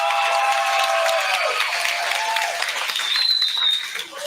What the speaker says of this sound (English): Let's give them a round of applause to the universe.